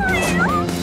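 A cat gives one short, close, clear meow with a rising and falling tone.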